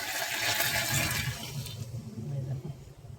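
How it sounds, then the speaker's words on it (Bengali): Hot water is poured into a pan of spicy snake fish curry, making a brief, rushing, splashing pour that fades after a second or two into quieter bubbling and stirring sounds. "এখন ওই পাশে গরম জল ছিল গরম জলটা দিয়ে নেওয়া হবে"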